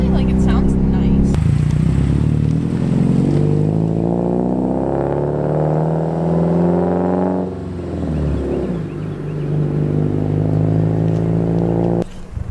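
A Subaru WRX fitted with an Invidia aftermarket exhaust revs up close by, the engine note climbing steadily for several seconds, then dropping back and settling into a rumbling idle before a final short blip.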